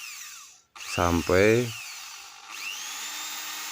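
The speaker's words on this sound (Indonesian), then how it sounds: "kita bagian pengeboran di bagian gagang goloknya guys" Drill with a 4.5 mm bit boring into a sonokeling wood machete handle: a loud whining bite that rises and falls in two quick bursts, then a fainter spin-down, with a short spoken word.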